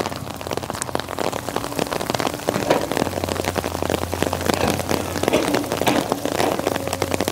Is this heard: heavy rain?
yes